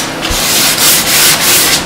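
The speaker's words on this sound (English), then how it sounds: "We're going to sand along the bottom of the cabinet." Steady abrasive rasping of sandpaper rubbed back and forth along the bottom of a wooden kitchen cabinet, in rhythmic strokes, close and loud with no talking.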